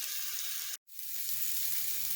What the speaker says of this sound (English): when you place the steak, you want to hear a sizzle